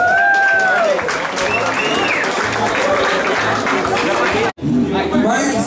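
Crowd applauding at a mountain bike race podium ceremony, steady clapping and chatter under a loud announcer's voice, followed by a brief pause and more talk.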